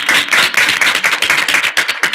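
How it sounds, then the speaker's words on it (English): Students at a university student senate general assembly clap together in a dense, steady burst of handclaps lasting a couple of seconds, fairly loud and close, with no talking over it. "clap it up."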